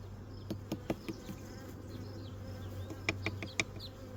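Honeybees buzz around an opened hive during beekeeping work, a soft steady drone with individual bees zipping past close by and occasional light knocks and clicks of handling.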